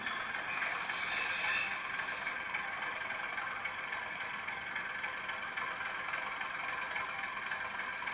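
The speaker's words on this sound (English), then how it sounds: "Analogue train set or model railway, whatever you want to call it" A continuous mechanical whir and hum of a model Class 37/7 diesel locomotive with DCC sound running along its track, steady and fairly quiet, with no talking.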